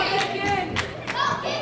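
A wrestling event crowd clapping and cheering for a wrestler, with loud bursts of applause and a rising roar in an arena, and an announcer's voice mixed in.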